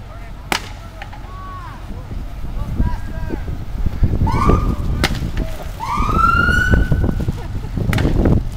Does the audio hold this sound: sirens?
yes